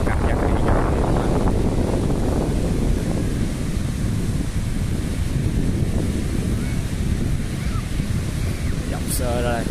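Gentle sea waves wash onto a beach at Christchurch, New Zealand, a steady broadband surf roar with light wind buffeting the microphone, continuous and fairly close throughout.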